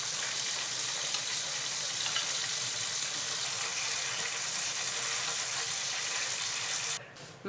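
Chicken pieces fry in hot oil with a loud, continuous crackling sizzle heard up close. The sizzle cuts off abruptly just before the end.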